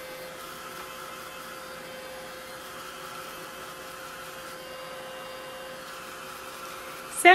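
Steady blowing whoosh of a handheld dryer, drying red paint on a craft piece, a continuous even drone held for several seconds at moderate level, with a brief clatter at the very end.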